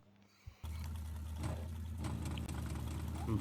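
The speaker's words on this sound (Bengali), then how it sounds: "আরে ভাই, বটবটির শব্দ কেন এখানে?" A GTA 5 video game motorbike engine, sounding like a bootboti, starts up and idles with a steady, rough, low rumble.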